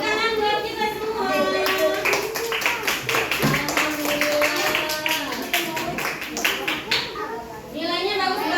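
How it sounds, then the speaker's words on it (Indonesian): A classroom group claps hands in scattered bursts while children's and an adult's voices talk over it, the claps irregular and mixed with chatter. "Tepuk tangan buat kita semua."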